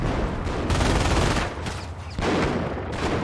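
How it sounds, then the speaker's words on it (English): A Panzer tank in Company of Heroes fires in rapid succession, with several loud, dense bursts of gunfire that come in quick clusters separated by short gaps. "The Panzer is able to fire more quickly"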